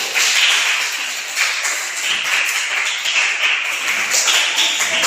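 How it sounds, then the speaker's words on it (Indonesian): Classroom applause for a student group after its discussion presentation, a dense, steady patter of many hands clapping together, fairly loud and sustained throughout with no talk over it. "tepuk tangan untuk kelompok 1"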